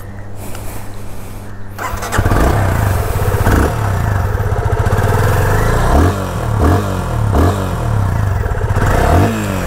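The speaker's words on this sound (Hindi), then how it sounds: "पर सबसे पहले जो हूँ मैं आपको सुना देता हूँ बाइक का एग्जॉस्ट नोट।" A 2021 Yamaha FZ25 Monster Energy Edition motorcycle starts up after a quiet moment, then idles close by with a throaty exhaust note and several sharp revs blipping the throttle.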